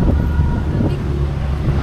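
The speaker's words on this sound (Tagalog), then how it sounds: "Grabe lang sa hangin, oh." Strong wind in Tagaytay buffets the microphone in a steady, loud low rumble that fills the whole stretch with roaring gusts.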